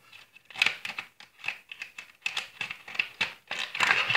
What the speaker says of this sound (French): donc je continue d'utiliser le ciseau